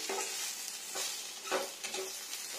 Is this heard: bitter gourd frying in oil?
yes